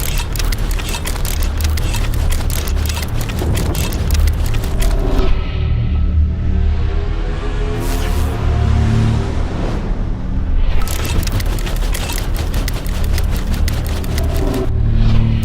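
A KTM motorcycle engine with an AMT automated gearbox revs hard with a steady loud roar. It dips in the middle during a quick electromechanical gear change, then climbs again. No one speaks.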